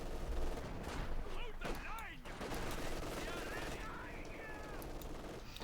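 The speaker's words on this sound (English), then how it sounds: "Guards now being equipped with the DP light machine guns" Light machine gun bursts in the video game Company of Heroes 2, DP guns firing in dense rapid rattles amid a busy battle mix with explosions, under a caster's continuous commentary.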